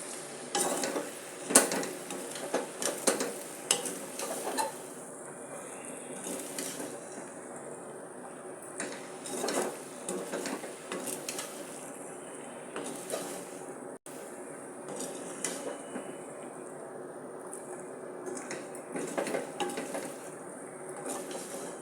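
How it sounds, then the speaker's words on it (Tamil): Brinjal being tossed with spice powder in a pan, giving an ongoing soft sizzle with scraping and stirring clinks of a spoon against the pan, steady and close with no talking. "போட்டு நல்லா பொடி எல்லாம் எல்லா கத்திரிக்காயும் படுறாப்பு நல்லா புரட்டி"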